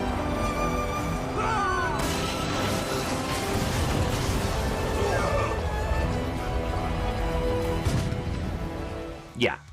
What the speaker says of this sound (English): you can destroy castles and other buildings with a well-placed shot